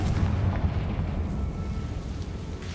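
A Confringo blasting spell explodes in the Hogwarts Legacy video game, a loud, sustained low rumbling blast that booms and crackles continuously throughout with no pause.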